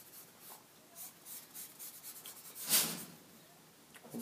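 Pencil scratching across paper in a rough anatomy sketch of abdominal muscles, soft continuous strokes with one louder brisk stroke partway through, close and quiet with no talking.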